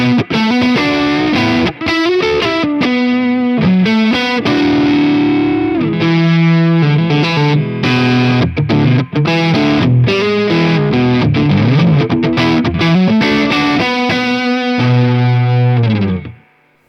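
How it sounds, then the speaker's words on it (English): A Crafter Crema S Strat-style electric guitar played through its neck pickup with distortion and effects, loud and close: a continuous run of sustained notes and chords for about seventeen seconds, with no voices. "That's one of my favourite Strat sounds ever, or Strat style sounds."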